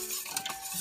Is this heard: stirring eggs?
yes